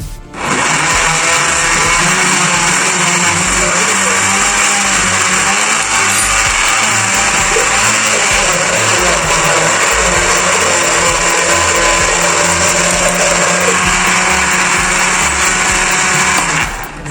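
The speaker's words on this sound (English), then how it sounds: "just add a little bit milk just for the machine to easy to blend" A blender whirs avocado with a splash of milk, loud and steady from start to finish and close to the microphone, with a constant high motor whine and no talking.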